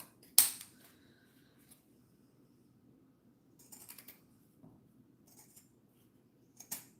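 Scissors cut through scrap fabric near a zipper tape, giving a few crisp, isolated snips spaced out in a quiet room, the first one sharp and loud, the rest softer.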